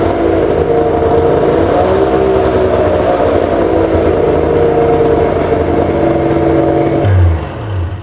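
A diesel Audi engine, the owner's own repair job, runs loud and close with a steady, droning rev held for several seconds before the speed falls away near the end.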